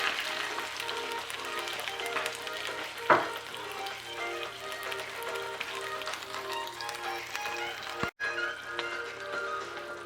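Chicken thighs sizzle loudly and steadily in a pot as broth is poured in, a close continuous frying hiss broken by a brief splash near the start.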